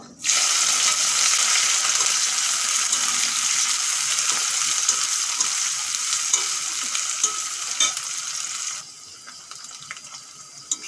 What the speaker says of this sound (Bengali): পেঁয়াজগুলো বেশ লাল লাল করে ভেজে নিয়েছি